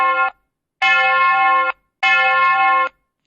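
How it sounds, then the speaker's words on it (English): An electric bell rings in a science experiment, three loud sustained bursts with short silent gaps between them and nothing else heard. "Let's take a bell and ring it."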